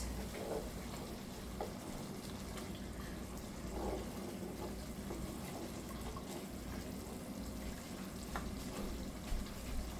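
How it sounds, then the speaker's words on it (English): Oxtail with calamari rice and black beans being stirred in a pot, a steady low sizzle and bubbling of cooking food with soft scraping of the spoon throughout, continuous and fairly close, no talking. "I'm just stirring. I don't want anything to stick."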